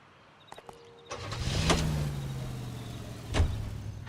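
A car in the video game L.A. Noire pulls away, its engine rising into a steady low drone after a few soft clicks and a door-like thump, with a brief louder swell near the end.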